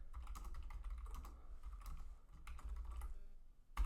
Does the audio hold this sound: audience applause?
no